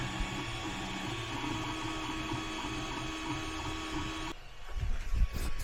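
A 3D printer printing a wing spar for a glider, giving a steady mechanical hum with faint repeating motor whines, then a short burst of handling clatter near the end.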